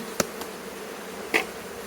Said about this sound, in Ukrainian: Бджоли в пастці, ну, три жменьки